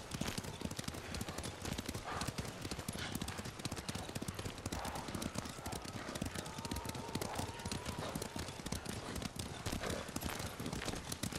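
Horses gallop in Ghost of Tsushima, a rapid, continuous clip-clop of hooves on open ground, loud and close throughout, with a brief whinny.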